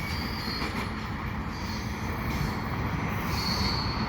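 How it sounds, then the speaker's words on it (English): A CN freight train with stack and mixed cars rolls past on a westbound line in Dorval, a steady loud rumble of wheels on rails with faint squealing, and no voices. "It's not that long, this train."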